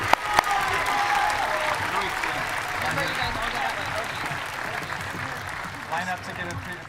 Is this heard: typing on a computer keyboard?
no